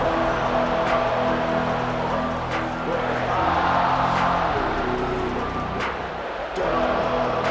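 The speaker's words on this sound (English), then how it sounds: "Listen to the crowd energy here in the early going." A large crowd at an arena football game roars steadily at a distance, a continuous wash of cheering voices that swells and dips slightly.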